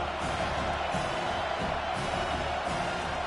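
A raucous stadium crowd cheers through a late-game football drive between Michigan and Auburn at Auburn, a dense, steady roar that holds loud and unbroken with no clear voices standing out.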